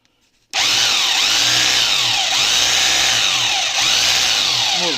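A power drill running in hammer mode, tested during a gearbox oil change on a drill with a knocked-out piston, kicks in after a brief quiet and runs as a loud, steady, close whine with a faint rhythmic pulsing.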